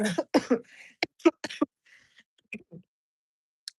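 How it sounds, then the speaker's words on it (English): Several short, dry coughs in quick bursts close to the microphone, followed by softer throat sounds and a quiet pause. "that cough is very dry"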